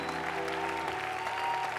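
A large congregation at a church worship service claps and cheers steadily throughout, a dense continuous roar of applause with voices mixed in.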